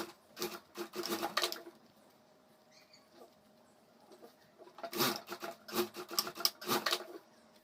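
A sewing machine stitching a handle onto a homemade school bag, heard as two close bursts of rapid mechanical needle chatter separated by a quiet pause with faint handling, fairly soft overall and without speech.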